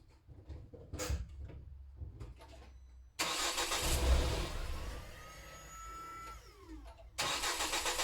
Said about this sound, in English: start the car and let it stall out from idling.